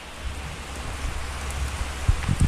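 Rain falls steadily in a custard apple orchard, a close, even hiss broken by a few low, dull thumps of drops or wind striking nearby.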